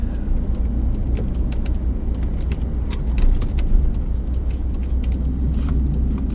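A car drives along with a steady low road and engine rumble throughout, while keys jangle in the cabin and occasional light clicks and rattles sit on top; no one speaks.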